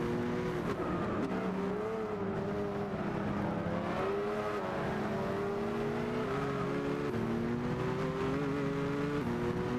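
Race car engines roar steadily in Gran Turismo 6 as the player chases a Corvette, a loud continuous whine that rises and falls through gear changes, with faint tire noise underneath.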